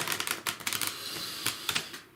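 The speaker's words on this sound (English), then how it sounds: "shuffling the cards." Tarot cards shuffled by hand at close range, a run of quick papery riffles and sharp flicks in uneven bursts, with no voices.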